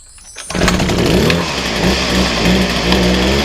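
A salvaged McCulloch hedge trimmer's small two-stroke engine catches after a moment of quiet and runs loud and close, with a steady buzzing drone and slight wavering in pitch.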